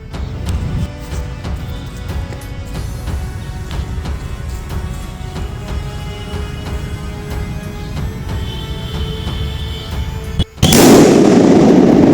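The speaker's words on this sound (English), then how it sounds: "This is the thunder pyro tube blaster with homemade fuse and contain 10 gram flash powder without titanium." Loud, continuous crackling rumble from a homemade thunder pyro tube firecracker packed with flash powder, booming for around ten seconds before a sudden sharp blast and roaring burst at the end.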